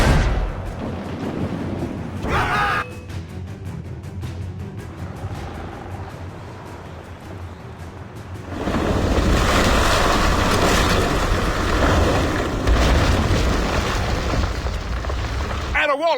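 Cannon fire during a naval battle between sailing warships in Assassin's Creed Rogue, with heavy booms and rumbling blasts over churning sea and ship noise, growing louder and denser in the second half.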